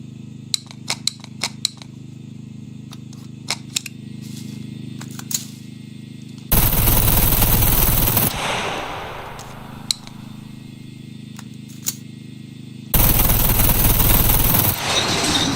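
A Mac 10 submachine gun firing 9mm rounds in the game SCUM, sharp single shots ticking out at first, then two loud sustained bursts of automatic fire with a quiet stretch between.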